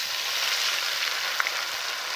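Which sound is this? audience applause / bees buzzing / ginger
ginger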